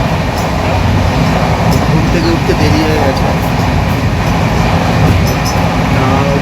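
Inside a moving Howrah–Katpadi train 12863 in a 3AC coach, a steady loud rumble of wheels and carriage runs throughout, with a person talking close over the continuous noise.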